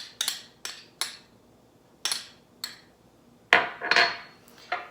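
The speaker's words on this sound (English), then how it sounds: "and 1 tablespoon of horseradish. And just mix that all together." A spoon clacks repeatedly against a bowl while ketchup, mayonnaise and horseradish are stirred into a creamy sauce, sharp irregular knocks in short bursts, close and fairly loud with no talking.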